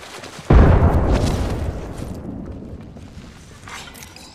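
A frag grenade detonates in Apex Legends with a loud, sudden boom, its heavy rumble swelling then slowly fading into a long, decaying tail.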